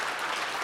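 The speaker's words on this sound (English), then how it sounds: "What about a round of applause for each and every one of them?" An audience at an innovation awards ceremony claps for the selected finalists, a brief burst of dense, steady applause filling the room.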